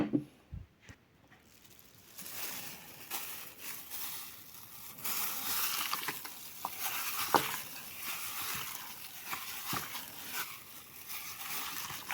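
Char siu marinade being stirred in a bowl for oven-roasted Hong Kong-style barbecue pork, a steady soft scraping and swishing that runs continuously at close range with occasional sharper clicks, no voices.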